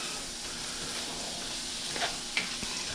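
Cajun shrimp and vegetables sizzle in a hot pan, a continuous close hiss with a couple of brief stirring clicks and scrapes near the end.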